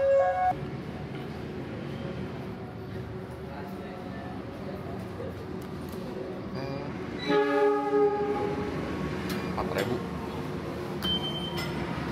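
A train at Bogor station in Indonesia, with a horn sounding briefly amid station ambience and a low rumble; a person talks over it.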